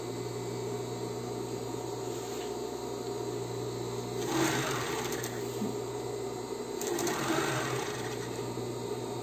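A sewing machine stitching bias binding onto the side of a bra, a close steady mechanical whirr with two louder bursts of faster stitching, and no talking.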